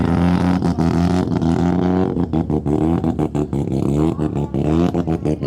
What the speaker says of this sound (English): I hear the brap of the rotary coming.